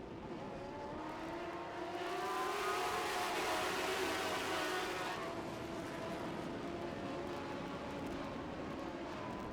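Sprint cars in a Northern Lightning Sprints feature roar together at the start of a 12-lap race, a dense, loud engine drone that swells after a couple of seconds and holds steady, with no voices.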